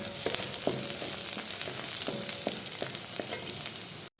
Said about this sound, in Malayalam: ഉള്ളി നന്നായിട്ട് മൂത്ത് വരുന്ന സമയത്ത് നമുക്കിതിലേക്ക് ചേനയുടെ എല്ലാം ചേർത്ത് കൊടുക്കാം